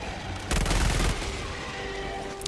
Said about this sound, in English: my next recoilless rifle shot is ready